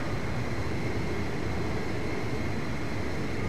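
Jet aircraft engine in flight from the video game Ace Combat 5, heard as a steady, loud broadband roar with no change in level, alone without voices.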